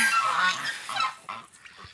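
A farmyard goose just freed from a neighbour's tangled net honks loudly and close by, a few harsh nasal calls in quick succession that fade to softer honks.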